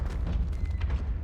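Confringo blasting spell in Hogwarts Legacy going off as a dull, rumbling fiery burst, with low booming energy running steadily through the short moment.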